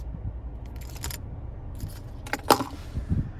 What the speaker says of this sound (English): But here is the key fob with remote start.